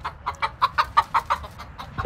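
Chickens cluck in a quick, rhythmic run of sharp, close calls, about a dozen in two seconds, with no talking over them.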